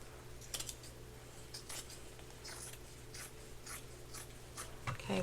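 Scissors snip a pocket off a cotton t-shirt in a series of short, crisp cuts close by, evenly spaced over several seconds against a quiet room hum.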